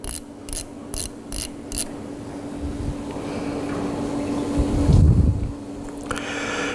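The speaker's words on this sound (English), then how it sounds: "Turn on a ratchet." A ratchet turns in a few quick clicking bursts at the start, followed by a steady mechanical hum and a low thump, close and fairly quiet with no voices.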